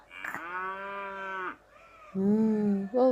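A person's voice imitates a cow mooing: a long, drawn-out, close moo, a brief pause, then a second deeper moo that ends abruptly, with no other sound around it.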